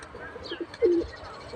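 Pigeons coo softly in a Turkish pigeon keeper's loft, with a short low throaty coo rising to a clearer, louder one in the middle and faint chirps around it.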